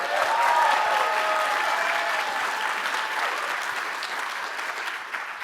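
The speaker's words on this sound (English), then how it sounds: "You all can clap that up." An audience claps at an event, a dense burst of applause that starts loud and slowly fades over a few seconds.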